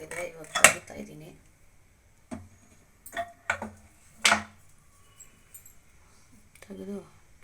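A pressure cooker, cooled after cooking lentil and greens stalk sambar, is opened with several sharp metallic clanks and clicks of the lid, spaced apart in a quiet kitchen with brief speech.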